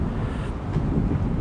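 Wind blows across open countryside on a winter walk, a steady low rumble and buffeting on the microphone with no voices.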